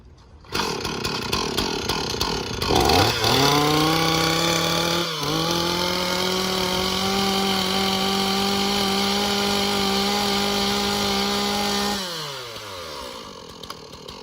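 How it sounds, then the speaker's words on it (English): A chainsaw with a decompression switch starts up and runs close by at a loud, steady high idle for several seconds, dipping briefly once, then winds down as the throttle drops, with no talking. "The chainsaw works just fine, and you're good to go."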